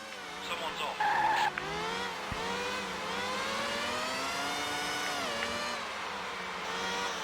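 A Formula One car in the Dreamcast game F-1 World Grand Prix II skids off the track, its tires squealing over a continuous high engine whine that rises and falls for several seconds.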